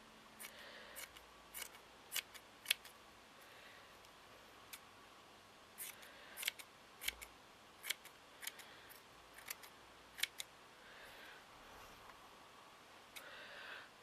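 Scissors snip through fabric around a doily in a quiet room, with crisp clusters of close cuts separated by short pauses.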